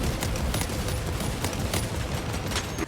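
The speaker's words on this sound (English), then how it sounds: "Each time they fire, it sounds like you're shooting a fist out of your gun" Bolter guns firing in the video game Warhammer 40,000: Space Marine 2, a dense rapid barrage of heavy punchy shots with crackling impacts, continuous and loud throughout.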